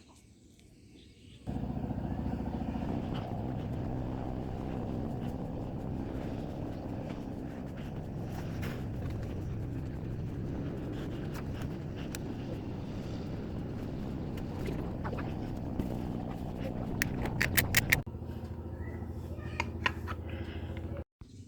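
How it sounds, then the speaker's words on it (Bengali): A drill bores through the middle of a circular PVC sheet to mount a 12-volt DC motor for a homemade water pump, whirring steadily for about sixteen seconds before stopping, close and fairly even in tone. "মোটর লাগানোর জন্য বৃত্তাকার পিভিসি পাইপের মাঝ বরাবর ছিদ্র করতে হবে"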